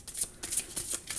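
Oracle cards shuffled by hand for a tarot-style card reading, with about five quick riffling bursts in a row, each one crisp and close, with no talk.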